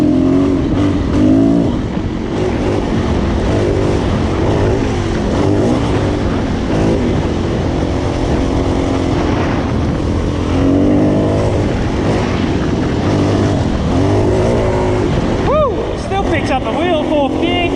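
A Suzuki DRZ400 dirt bike engine roars close by, revving up and shifting through gears into fourth, with rising whines and a sharp surge near the end.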